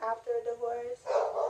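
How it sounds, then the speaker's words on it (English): A pet dog barking and yipping in short bursts somewhere in the home, partly under a person talking close by. "If y'all hear that, that's my dog."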